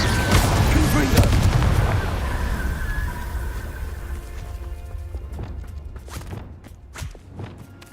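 Confringo explosive spell cast in Hogwarts Legacy, loud booming blasts up front that fade into a rumbling tail, followed by scattered sharper impacts.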